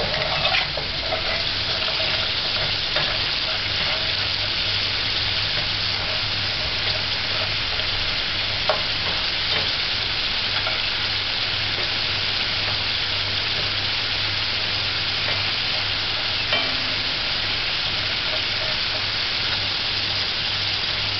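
Homemade French fries fry in hot oil with a loud, steady sizzle and crackle that never lets up. Small pops and bubbling rise out of the constant hiss.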